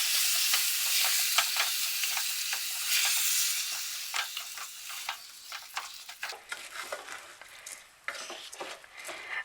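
Rice is stirred into a hot pot of pilau, giving a continuous close sizzle that fades over time, broken by repeated scraping and clinking strokes of the spoon.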